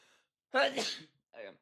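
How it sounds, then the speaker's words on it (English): A single sharp human sneeze, close and loud, with a brief intake breath before it and a faint voice trailing afterward. "Sorry, another sneeze."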